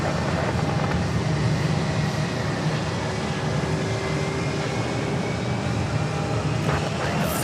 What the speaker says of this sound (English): there goes my dad's plane off to Raleigh, Durham